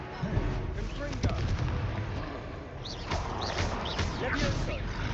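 Confringo fire spell cast in Hogwarts Legacy, firing off as a series of booming, blasting impacts over a continuous rumbling combat soundscape, with a voice calling out amid the action.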